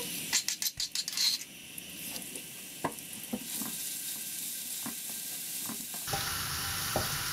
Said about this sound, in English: after that we're gonna use the same oil to fry the garlic